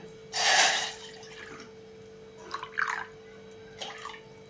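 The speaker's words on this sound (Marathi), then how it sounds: "चहासाठी आपण पहिल्यांदा हे सव्वा कप पाणी घेऊया" Water poured into a pan to make jaggery tea: one short, splashy pour up close, then a few faint trickles and drips.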